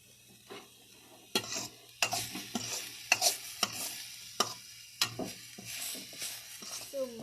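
Veg momo stuffing being stirred in a pan over a low flame, with repeated scraping strokes of a spoon against the pan and a soft, steady sizzle underneath, close and fairly quiet.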